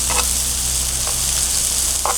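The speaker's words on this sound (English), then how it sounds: "This is how my grandma taught me to cook fish. Particular walleye." Walleye fillets frying in a pan, cooked the traditional home way, give a steady close sizzle with a few brief crackling pops.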